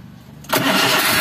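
Daihatsu Gran Max minibus engine under repair, with a suspected worn tensioner bearing, bursts into loud, steady running after a brief quiet moment, a dense close-up roar with a rattling edge.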